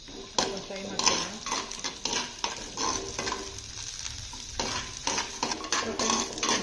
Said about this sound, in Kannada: ತುಪ್ಪಕ್ಕೆ ದ್ರಾಕ್ಷಿ ಗೋಡಂಬಿ ಫ್ರೈ ಮಾಡ್ತೀನಿ.